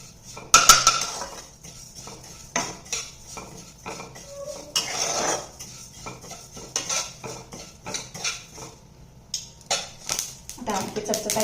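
A flaxseed mix is dry-roasted over low flame in a pan while a spoon stirs and scrapes against the metal, irregular clinks and scratches repeating throughout, with some talk alongside.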